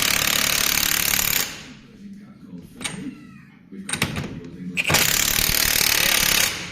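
Impact gun rattling in loud bursts while tightening a shaft nut on the suspension of a Toyota Aygo track car, with two long runs at the start and end and short bursts between, under quiet talk.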